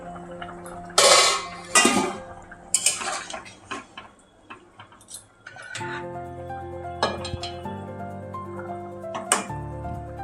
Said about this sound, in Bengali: ঢাকনাটা খুলে দেখছি কতটা কি হলো।